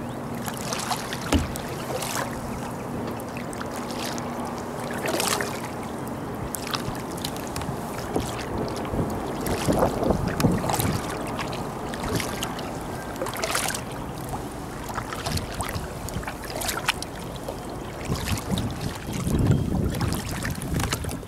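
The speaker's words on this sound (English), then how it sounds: "it's my second time solo here in the Jackson Big Tuna Kayak" A Jackson Big Tuna kayak moves across a lake on a breezy day. Paddle strokes splash and drip at a steady, unhurried pace, with light water lapping and wind noise throughout.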